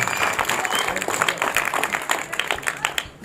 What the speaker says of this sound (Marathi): सगळ्यांनी टाळ्या वाजवायच्या आहे.